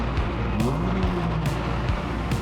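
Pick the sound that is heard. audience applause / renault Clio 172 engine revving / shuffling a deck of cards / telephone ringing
renault Clio 172 engine revving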